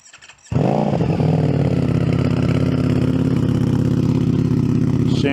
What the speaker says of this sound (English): I've got no baffles in the